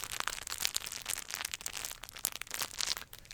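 Crinkle cans being squeezed and handled up close for ASMR, giving dense, crisp crackling and crunching bursts that come in irregular flurries with no talking.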